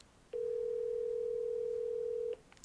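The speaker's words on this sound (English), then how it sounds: "I'm calling my mom now." A phone call ringing out produces one steady electronic ringback tone lasting about two seconds, clear and alone against a quiet room.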